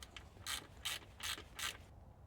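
A hand ratchet tightening a plug on a 2015-2020 Ford F150 transfer case gives four short, crisp clicking bursts in a quick rhythm, close and fairly quiet, with no talking.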